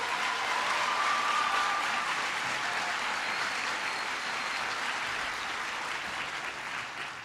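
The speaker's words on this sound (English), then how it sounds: "Please give him a big round of applause." Audience applause at a political speaking event, sustained steady clapping from a crowd filling the whole stretch, fairly loud and slowly tapering toward the end, with no talk over it.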